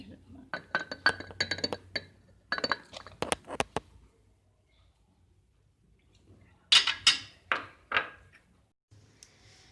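Three or four ice cubes dropped into a glass blender jar for a banana shake with ice cream, sharp clinks and knocks in two clusters separated by a quiet pause, fairly close, with no talking over them.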